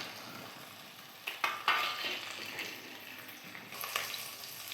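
Ginger and garlic frying in a pan for egg curry, a soft steady sizzle with a few louder stirring scrapes partway through, fairly quiet and close, with no voices.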